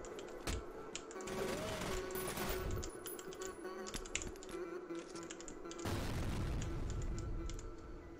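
Gunshots in the F.E.A.R. video game strike two physics-enabled tables in an editor test level, a series of sharp, loud bangs with clattering impacts, spaced irregularly over a steady background hum.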